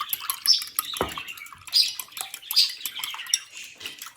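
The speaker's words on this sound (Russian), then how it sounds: "В водичку добавляем уксус, яйцо. Хорошо перемешиваем." Water, vinegar and egg stirred together in a bowl for Napoleon cake dough: quick, close clinking and scraping of a utensil against the bowl with small wet splashes, in an irregular rhythm and otherwise quiet.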